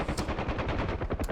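Rapid automatic gunfire from a UH-1 helicopter in the DCS flight simulator game, a dense burst of evenly spaced shots at close range, loud and continuous for over a second.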